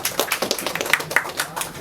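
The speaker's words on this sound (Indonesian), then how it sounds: "Tepuk tangan dulu." A live audience claps at an Islamic scholars' discussion forum on Islam Nusantara, a scattered, moderately loud patter of hands carrying on steadily for a couple of seconds in a hall.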